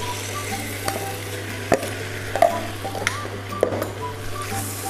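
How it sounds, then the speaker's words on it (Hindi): Marinated chicken sizzles on a hot tawa for spicy tawa chicken, a low steady fry under a few sharp spoon scrapes and taps against the pan, close and moderately loud. "अब इसमें मैरिनेट किया हुआ चिकन डाल देंगे"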